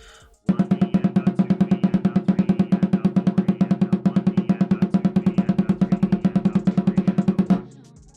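A fast, even roll of rapid double-stroke thirty-second notes on a drum, played without a break for several seconds, then stopping abruptly.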